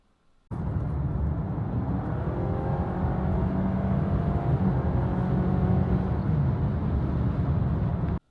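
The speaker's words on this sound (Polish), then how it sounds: "jak gwałtownie przyspieszymy, to obroty silnika będą wysokie i będzie wyraźnie głośniej" A Honda ZR-V e:HEV 184 hp hybrid revs hard under heavy acceleration, a loud, sustained engine drone that starts abruptly, holds with rising tonal whine, and cuts off sharply at the end.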